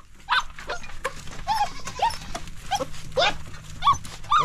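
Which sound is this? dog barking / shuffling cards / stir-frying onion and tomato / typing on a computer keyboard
dog barking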